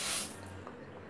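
Water pours over urad dal set to soak for idli batter, a brief splashing hiss that fades quickly into a faint trickle, quiet and close.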